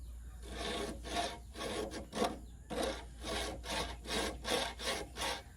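A small bastard file is drawn across a metal trap in a steady rhythm of rasping strokes, about ten close scrapes with short pauses between them, and no talking.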